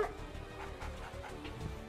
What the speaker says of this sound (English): The doggies are dying.